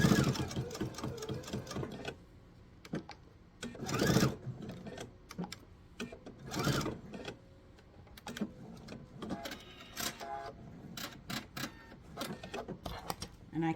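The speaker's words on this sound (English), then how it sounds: "I'm going to re-sew my binding" Someone stitches binding back onto the edge of a laptop sleeve with a sewing machine, which runs in rapid mechanical bursts that start and stop between short pauses. The sound is close and clear, with no talking.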